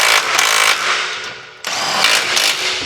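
Impact wrench tightening bolts during a Corvette C6Z exhaust install, two loud close hammering bursts with a short pause between them.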